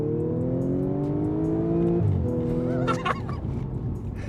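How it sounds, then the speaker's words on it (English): A supercharged V6 engine in an Audi S4 (B8.5) revs up, its tone rising steadily, then drops off as it shifts, followed by a throaty, crackling burble; loud and close with no talking. "Audi chose to give their S4 a supercharged V6"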